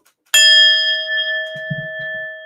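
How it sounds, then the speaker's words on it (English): One gong strike rings out loud and close for a super chat on a livestream, then its bright metallic tone sustains and slowly decays while a brief low murmur sits underneath. "I gotta give the gong for the super chat."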